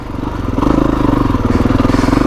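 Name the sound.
Kawasaki KX450X dirt bike riding up a trail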